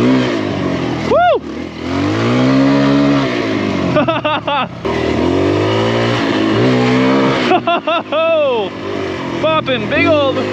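A Kawasaki KLX140RF dirt bike engine revs hard during a ride, climbing and falling in repeated loud, close pitch sweeps over steady engine drone, with brief throttle blips.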